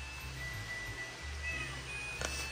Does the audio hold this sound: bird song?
no